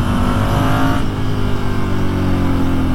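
A Ducati motorcycle pulls hard on a winding country road in Ardèche, its engine note loud and close, rising sharply and then easing off after about a second amid heavy rushing wind.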